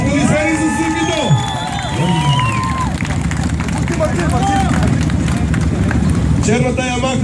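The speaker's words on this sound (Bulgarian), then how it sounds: "Аплодисменти за Сузукито!" Outdoor crowd at a loudest-motorcycle contest cheering and applauding for a black Suzuki, steady dense roar of voices and clapping with engine sounds mixed in.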